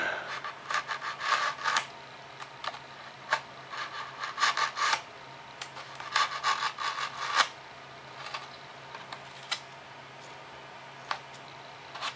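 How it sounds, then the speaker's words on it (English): Foam fuselage of a Super Cub model airplane being trimmed along its back end, giving repeated close scraping and rasping strokes in short irregular bursts with brief pauses between them. "I'm going to go ahead and trim up this back nice and even."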